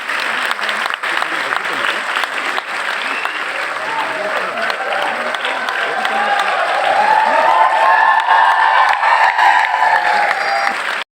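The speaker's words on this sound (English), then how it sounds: "Huge round of applause." An audience at a college convocation gives a big round of applause, continuous loud clapping that swells slightly toward the end, with some crowd murmur and faint cheering underneath.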